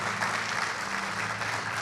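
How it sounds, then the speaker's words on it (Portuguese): A church congregation claps together at a morning service, a dense, even wash of applause that fills the room throughout. "Você pode aplaudir o Senhor nesta manhã?"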